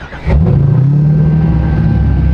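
A Toyota Supra engine starts up after a short crank and settles into a steady, loud, close idle rumble with no voices.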